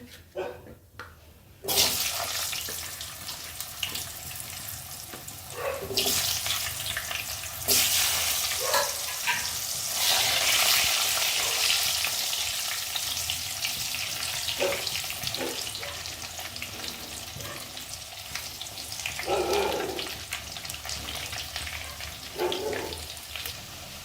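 Potatoes fry steadily in an oil-filled pan, a loud continuous sizzle and crackle lasting throughout, with occasional clinks and stirring scrapes and no talking.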